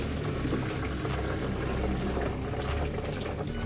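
Boiled chowmein noodles tipped into a perforated colander at home, with a steady, dense wash of draining, splashing water running continuously at close range, no speech.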